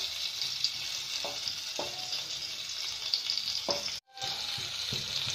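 Hilsa fish frying in a pan: a steady, fairly loud hiss of hot oil with a few soft taps, cutting out briefly before the sizzle resumes.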